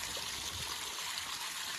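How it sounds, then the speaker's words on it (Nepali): A natural stream or drain near a homestay trail runs continuously, a close, full, even rush and trickle of flowing water with no pauses. "खोला सलल भने जस्तो यहाँ बग्दैछ पानी"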